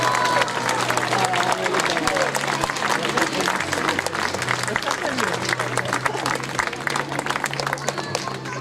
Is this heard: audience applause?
yes